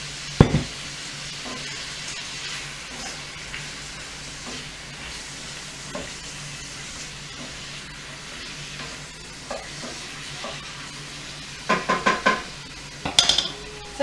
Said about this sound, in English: I'm going to add a little bit of teriyaki flavoring to my stir fry